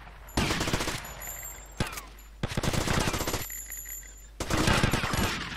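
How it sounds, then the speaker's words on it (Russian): Bursts of automatic gunfire in GTA Vice City come in three or four separate rapid volleys with short pauses between them, sharp and close, over a faint game background. "я, короче, по ним стреляю"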